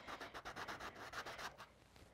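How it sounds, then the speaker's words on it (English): A wet sponge scrubs the outer skin off a dried birdhouse gourd in a close, steady series of short rubbing strokes that fade slightly toward the end. "I'm honestly just going to start scrubbing this gourd"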